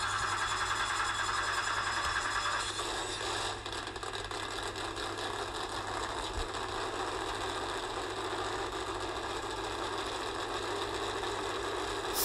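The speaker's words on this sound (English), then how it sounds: "Drivers, start your engines." NASCAR stock car engines starting at the beginning of a race, rumbling and revving steadily, a continuous mechanical drone with a slight shift partway through, no talk.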